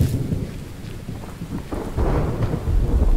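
Steady rain with low rumbling thunder in the survival game The Infected, a continuous wash of downpour that swells louder in the second half, with no talking.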